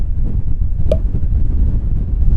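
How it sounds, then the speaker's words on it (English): Strong wind above a beach buffets the microphone with a loud, continuous low rumble, broken by a single short click partway through. "of course it's very windy up here"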